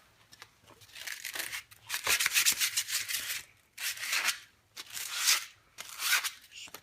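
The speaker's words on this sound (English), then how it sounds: "Probably wouldn't be a bad idea to at least sand them a little bit because they are kind of covered in stuff." Screws from a starter generator rebuild being sanded clean by hand, giving repeated bursts of close, gritty rubbing and scraping with short pauses between strokes.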